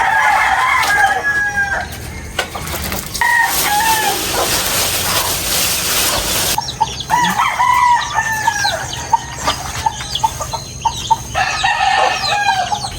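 Caged egg-laying hens cluck steadily at close range, with a rooster crowing among them and other birds chattering in the background, the noisy layer pen busy throughout without speech.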